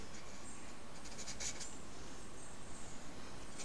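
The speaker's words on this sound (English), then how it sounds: "Here I am writing" Pen or pencil writing by hand on paper while working out a maths answer, a faint steady scratching that runs for a few seconds with no talk over it.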